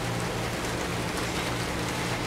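Steady rain falling outdoors on a garden, a soft, even hiss of drops without pause, fairly quiet and with no voices.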